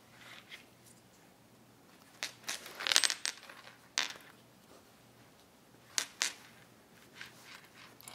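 Sewing clips snapping onto a fabric zipper pouch, a handful of small, sharp plastic clicks and fabric rustles arriving in short clusters, close and quiet, with no talking.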